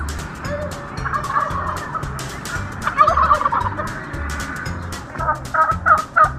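Turkeys gobble again and again at a pumpkin farm, close and loud, in bursts over a steady low rumble.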